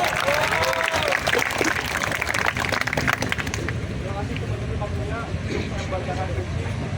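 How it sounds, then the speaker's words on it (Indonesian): Crowd applause at a peaceful student demonstration in Semarang, a dense clatter of clapping that fades out midway, leaving outdoor murmur, voices and passing traffic. "Beri tepuk tangan"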